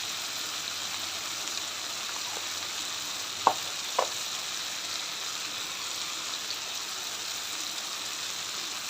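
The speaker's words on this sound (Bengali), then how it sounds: "লবণটা দিয়ে ভালো করে নেড়ে চেড়ে দেবো।" Vegetables fry in a pan with salt added, a steady soft sizzle running throughout, broken by two brief clinks of stirring near the middle; no voices.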